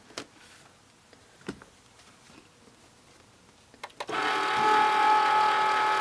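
A Cricut Maker with a pen loaded draws on white cotton fabric: a few quiet clicks and taps, then the motor starts into a steady, fairly loud mechanical whir with a faint whine.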